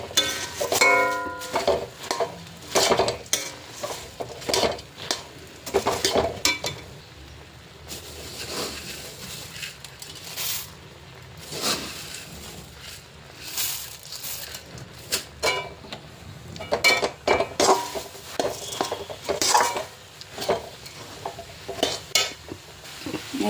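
Puffed rice being stirred into jaggery in a pan for making moa, with irregular scraping, clinking and rustling strokes throughout, no talking.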